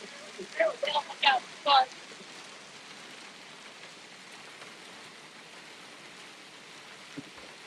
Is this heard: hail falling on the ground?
yes